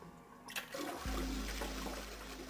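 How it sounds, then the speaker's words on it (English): Toilet flushing in the video game 999: 9 Hours, 9 Persons, 9 Doors, a click followed by a loud, sustained rushing and gurgling of water that continues to the end, with no voices. "I'm impressed the toilet can flush this often."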